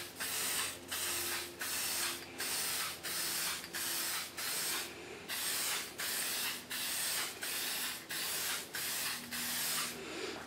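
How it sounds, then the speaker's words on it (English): A Xigmatek computer fan is spray painted in about a dozen short, even bursts of hissing aerosol, each lasting under a second with brief gaps between, close and steady. "we'll go ahead and flip these over and spray the backside"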